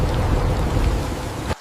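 Heavy monsoon rain over a village, with thunder: a loud, dense roar of falling water and low rumbling that continues evenly, then cuts off abruptly near the end.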